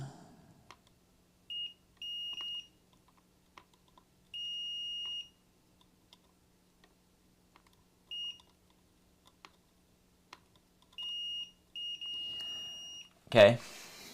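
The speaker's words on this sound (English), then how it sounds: "we're going to be listening for a beep" A multimeter gives several short continuity-test beeps of varying length, sounding intermittently over a faint hum, ending with a brief burst of louder noise.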